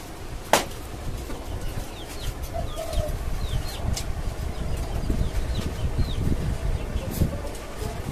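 Native chickens in cages on a five-storey rooftop farm, with scattered faint clucks and chirps over a steady low rumble of background noise and one sharp knock near the start.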